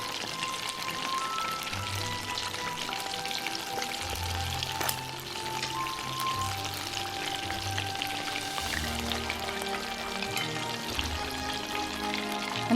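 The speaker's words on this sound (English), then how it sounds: "Deep fry for 5 minutes." Chicken pieces deep frying in hot oil for a crispy, KFC-style fried chicken, giving a steady, close bubbling and sizzling hiss that holds at an even level throughout with no talking.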